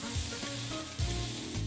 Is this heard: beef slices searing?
yes